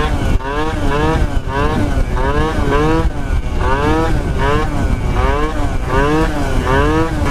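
A Piaggio Zip scooter, restarted after three months idle, revving hard through a wheelie, its engine note rising and falling in repeated loud, close surges for several seconds with no talking.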